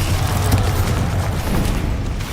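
Bombarda blasting spell explosion in Hogwarts Legacy, a loud, sustained rumbling boom with heavy low-end roar throughout the short clip, alone without talk.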